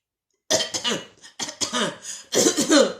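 A person recovering from coronavirus imitates their dry cough, giving a quick run of short, harsh coughs in three close bursts after a brief silence.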